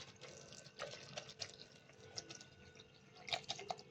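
Water poured from a glass onto phalsa berries inside a juicer, a faint trickling and splashing with small drips, quiet and close.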